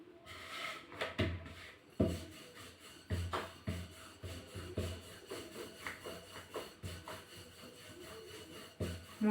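A rolling pin rolls chapati dough out large on a board in a home kitchen, making rhythmic soft rubbing and thudding strokes at close range, repeated irregularly.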